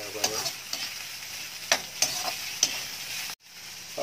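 Pork hock sizzling in a frying pan while a spoon stirs it, crackling frying noise with a few sharp scraping clicks, close and loud, briefly cut off near the end.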